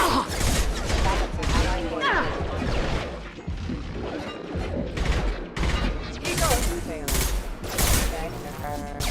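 Rapid gunfire rattles through a Mass Effect 2 Legendary Edition colony firefight, dense bursts of automatic fire and sharp impacts crowding nearly every moment, loud and close, with game voices speaking over the shooting.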